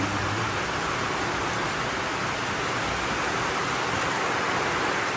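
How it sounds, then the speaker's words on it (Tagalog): Heavy rain pours down steadily in a dense, hissing roar that fills the whole stretch without pause. "Ay, grabe itong ulan."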